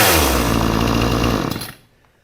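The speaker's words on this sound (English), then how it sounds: "I'll let it run for a little while" Loud, close buzzing of a Proyama 62cc gas chainsaw engine running at speed, which then cuts off and fades to quiet.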